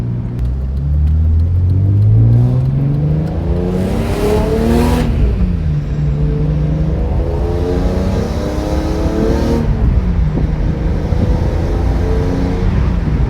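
A BMW E46 M3 engine is driven during break-in, revving up through rising and falling harmonic sweeps, loud and close, with no voices.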